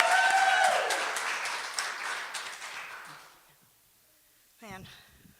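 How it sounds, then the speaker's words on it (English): Audience applause at a graduation ceremony for a graduate speaker, loud at first and then tapering off to near silence, with a short voice near the end. "Everybody give Sierra a big round of applause."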